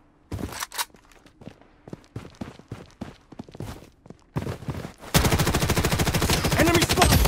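Gunfire in the video game Blood Strike: scattered single shots and footsteps at first, then a sustained loud burst of rapid automatic fire over the final two seconds, close and with no talk.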